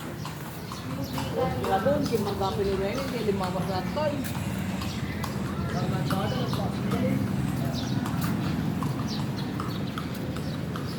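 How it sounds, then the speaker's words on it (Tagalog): Horse hooves clip-clopping on a street in Vigan, steady and continuous under a busy crowd of voices talking nearby, with occasional bird chirps mixed into the background. "may kabayo din naman"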